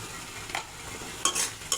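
Spice paste for a tengra fish curry being fried and stirred in a pan, a soft steady sizzle broken by three brief scraping bursts of stirring, close and moderately loud with no talking.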